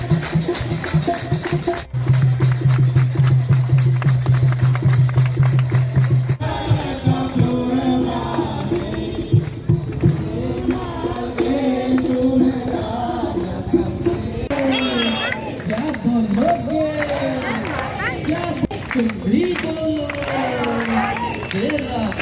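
Large crowd gathered at a temple for Durga Puja aarti, dense continuous hubbub of many voices with singing and chanting, loud and close throughout.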